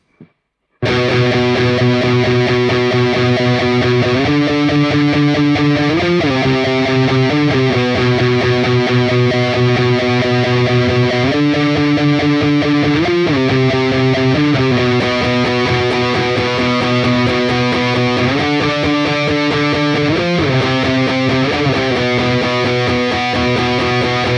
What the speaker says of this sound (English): So let's start off with the intro riff.